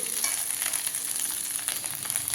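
Mint rice being stirred in a hot pan, with a steady soft sizzle and continuous scraping texture, close and even throughout with no talking.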